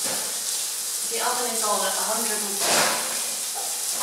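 Shallots sizzle in a pan for a sausage and bacon casserole, giving a continuous bright hiss that carries under a person talking and briefly rises when the talking pauses.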